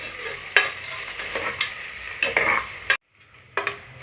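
Onions being sautéed in a pan until golden for chicken biryani, with a steady sizzle and the repeated scrape of a spoon stirring. A brief silent gap comes near the end before the frying resumes.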